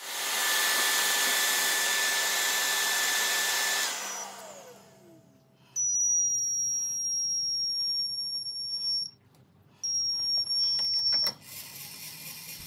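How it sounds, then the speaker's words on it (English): A loud shop vacuum roars steadily, then drops away as a high-pitched whine from a lathe cutting metal starts and stops twice. "I've moved the vacuum pipe out a little to allow the camera to see the cut"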